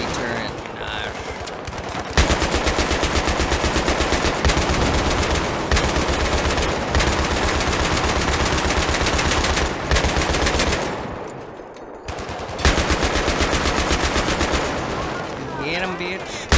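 A Humvee-mounted turret machine gun fires in Battlefield 3, long loud sustained bursts of rapid gunfire with brief gaps between them.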